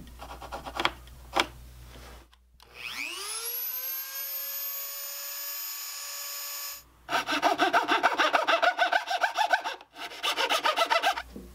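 Small saw notching the wooden braces of an acoustic guitar soundboard, heard as quick rhythmic back-and-forth rasping strokes in two close bursts, after a rising tonal whine and a few earlier scrapes.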